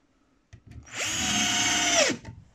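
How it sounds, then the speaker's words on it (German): A pink limited-edition Parkside PBSA 12 D4 cordless drill driver in second gear drives a screw: one close, steady motor whine lasting just over a second, rising at the start and dropping off at the end, with nobody talking. "Ich ziehe jetzt hier mit der Bohrstufe, ziehe ich hier Schrauben an."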